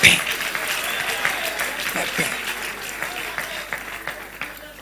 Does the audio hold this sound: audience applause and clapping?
yes